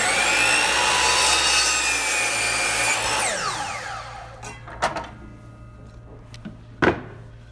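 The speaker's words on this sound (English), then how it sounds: "Okay, so now we're gonna cut to rough length, 1 inch or 3/4 of an inch long." A saw cuts a wooden board to rough length, a loud close rasping whine that fades after about four seconds, followed by a few sharp knocks and clunks of wood being handled.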